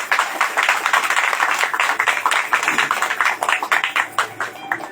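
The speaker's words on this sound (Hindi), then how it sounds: "परमेश्वर के लिए खुशी से ताली बजाते हैं।" A church congregation claps together in a steady, dense rhythm of many hands, loud and continuous for several seconds without talk.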